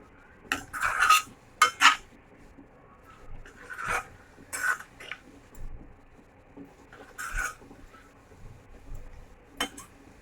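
Potato bhaji for a fasting meal stirred in a pan with a metal spoon: irregular bursts of scraping and clinking against the pan, with quiet gaps between strokes.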